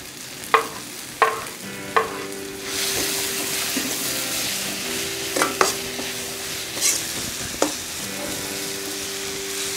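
Onion, ginger garlic paste and capsicum sautéing in a pan, a continuous close sizzle punctuated by a run of sharp spatula scrapes and knocks against the pan, some in quick succession, with no talking.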